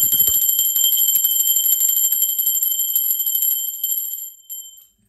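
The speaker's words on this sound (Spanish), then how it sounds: "Va campana." A bright, rapidly repeating metallic bell rings continuously, close and loud, then stops abruptly with a short final ring.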